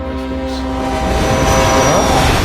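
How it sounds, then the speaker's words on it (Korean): A train rumbles loudly and steadily in the video game What Remains of Edith Finch, with a sustained low roar and faint tonal hum building slightly over its short span. "진동 소리가 그럼 열차 소리였어?"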